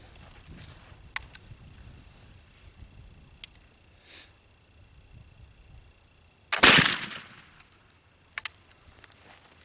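A single loud gunshot of DIY black powder cracks nearby, with a sharp burst that decays quickly. Faint clicks and handling noises sound before and after it in an otherwise quiet outdoor setting.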